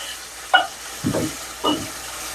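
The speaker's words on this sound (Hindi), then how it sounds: "इसे हम फ्राई करेंगे थोड़ा सा" Spiced masala for handi kabab frying in a pan over a medium flame, stirred with three short, close scraping strokes spaced about a second apart, with a low hiss between them and no voices.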